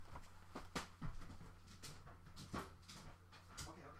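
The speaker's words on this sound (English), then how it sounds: "Why is my dog pacing so much? Let me let her out real quick." A dog whimpers and pants softly indoors in a quiet room, giving a few short, faint whines spaced across the moment.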